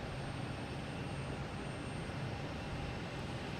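An airliner taking off from runway 15 at Boston Logan Airport gives off a steady, broad jet roar that holds at an even level throughout, with no voices over it.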